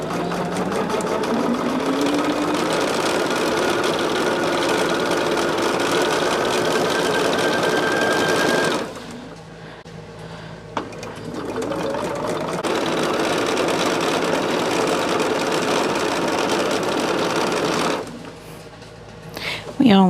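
A sewing machine stitches pinwheel quilt blocks for a flowering-pattern quilt-along, humming loudly and steadily in two long runs with a quiet pause between, while a person talks.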